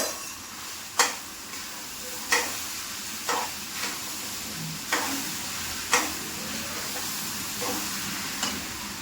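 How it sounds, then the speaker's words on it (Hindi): Sago pearls being tempered sizzle in a pan, a steady frying hiss broken by a series of sharp ticks from a spoon scraping and stirring, close and moderately quiet. "यहाँ पे साबूदाना छोंकने लगी हूँ, तड़का लगाने लगी हूँ"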